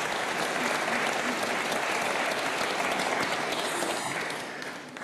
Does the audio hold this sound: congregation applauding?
yes